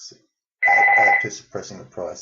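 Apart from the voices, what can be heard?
phone ringing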